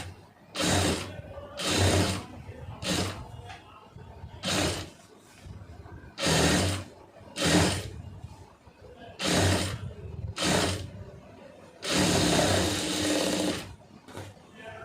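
A sewing machine stitches the lining of a blouse in about ten separate loud whirring bursts of one to two seconds each, the last one longer, with quieter pauses and some talking between runs.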